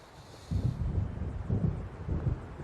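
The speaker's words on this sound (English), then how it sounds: "It seems there's a storm coming." Low rumbling gusts of an approaching storm in Alan Wake, with wind and thunder swelling in several heavy surges over a faint background hiss.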